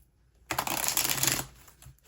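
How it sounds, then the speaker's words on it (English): A tarot card deck is shuffled in one quick, crisp riffle lasting about a second, close and clear against a quiet room, with no talking. "Let's give the deck a shuffle."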